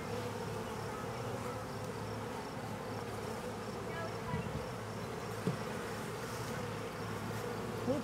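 Honeybees drone steadily in an open hive during a May inspection, a dense continuous hum heard close up, with a few faint handling noises and no clear talk.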